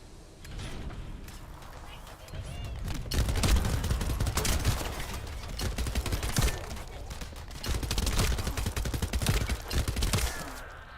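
SMG fire in The First Descendant comes in loud rapid bursts with mechanical clatter and game effects, pausing briefly between volleys.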